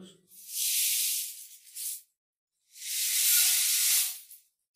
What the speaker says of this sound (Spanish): esto es un guaso, esto es una lámina con llena de pipitas por dentro, para que generen ese sonido,